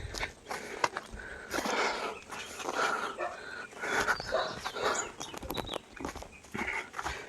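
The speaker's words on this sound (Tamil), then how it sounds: "நாய் வேற நம்மளை கண்டுபிடிச்சிருச்சுங்க." A dog in an abandoned, flood-emptied village in Pudukkottai makes scattered noises. They come with rustling, shuffling movement and footsteps at a moderate distance, without sustained barking.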